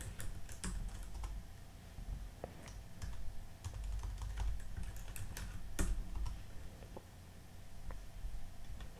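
Typing on a computer keyboard, a steady run of light plastic key clicks in irregular bursts at close range, fairly quiet, with no voices.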